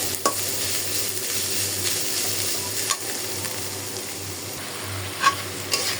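Onion and green chili fry in hot oil with turmeric and salt, a steady close sizzle broken by a few sharp stirring scrapes and clicks against the pan, with no talking.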